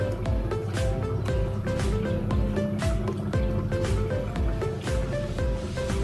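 Water poured into an empty container with salt for a DNA extraction demo, a continuous close liquid splash and trickle with dripping accents.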